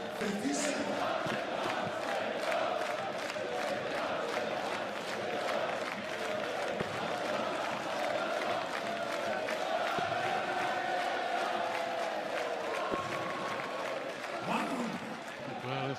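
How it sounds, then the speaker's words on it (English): A large, enthusiastic crowd at a darts final in Melbourne applauds and cheers loudly and continuously, with rapid dense clapping and scattered shouts and whoops. "Well, enthusiastic, vociferous crowd in Melbourne over the last 3 days."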